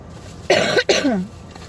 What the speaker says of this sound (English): I still got that awful cough